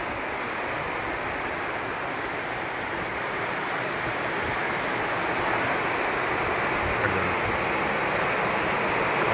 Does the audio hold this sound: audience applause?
no